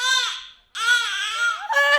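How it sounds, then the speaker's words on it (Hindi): A baby cries in loud, wavering wails: two long bursts split by a short pause, then a third rising cry, with no talking over it. "बेबी रो रहा है"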